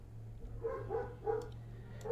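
Dogs bark faintly in the distance, a few muffled woofs in a short irregular run over a low steady hum.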